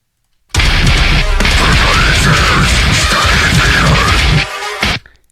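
A heavily distorted electric guitar blares loudly for a few seconds, its pitch warbling and shifting as a whammy pitch-shift pedal sweeps the notes.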